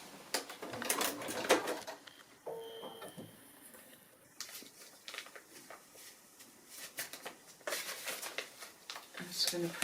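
A sewing machine joins the pieces of a foundation pieced quilt block, running in short bursts with clicks and handling sounds between, partly under a speaking voice.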